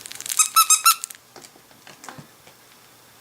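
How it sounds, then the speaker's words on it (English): A squeaky dragon dog toy gives four or five sharp, high squeaks in quick succession, close and loud, followed by soft rustling and patter as it is handled or tossed. "Enjoy your squeaky dragon."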